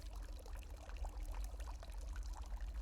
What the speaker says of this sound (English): There's a slight sound of running water.